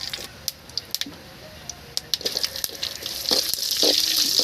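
Curry leaves fry in heating oil for a goat-head curry in a village kitchen, with scattered crackles and pops that swell into a dense, steady sizzle toward the end; no voices.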